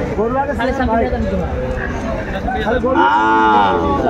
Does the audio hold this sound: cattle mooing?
yes